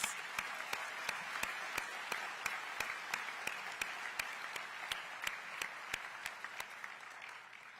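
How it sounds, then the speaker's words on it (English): An audience at a DeKalb County State of the County address applauds city mayors, with a soft bed of crowd clapping under sharp, regular individual claps close by, steady throughout and fairly quiet. "Let's give them all a warm round of applause."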